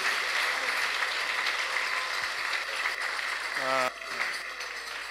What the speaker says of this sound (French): Applaudissons très très très fort.